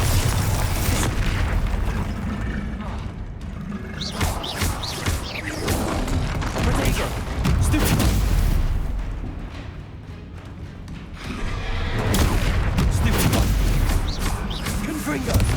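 Spell explosions from the video game Hogwarts Legacy, Bombarda and Confringo, boom again and again in heavy rolling blasts across the whole stretch, with spoken incantations layered over the din.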